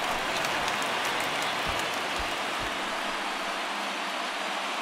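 A stadium crowd of over 30,000 in the baseball video game MLB The Show 19 roars in a steady, dense wash of cheering, broad and sustained without talk.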